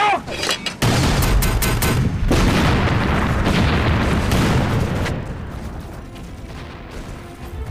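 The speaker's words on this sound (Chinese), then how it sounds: "炮手填断，不间断放炮" Artillery cannons fire without pause during a battle against enemy positions in a Chinese war film, a loud sustained barrage of booms and bursts with voices shouting beneath, easing off toward the end.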